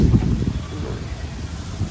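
Strong gusty wind on a rooftop terrace, a loud continuous rumble buffeting the microphone throughout, with no clear speech.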